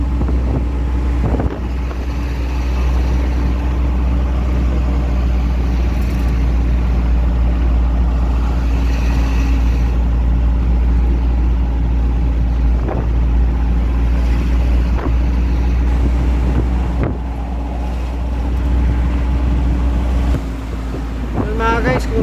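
A large six-wheeler truck loaded with cotton bales, with small tyres, drives along a road near Laguna Bay; a loud steady low engine drone and wind rumble fill the whole span, with a voice talking over it.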